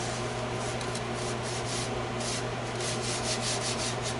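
Flour is shaken and rubbed around inside a greased cake pan, a continuous dry, gritty rasping whoosh, steady and close with no pauses.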